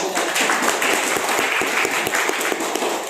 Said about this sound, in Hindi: मैं चाहूंगा जोरदार तालियां हो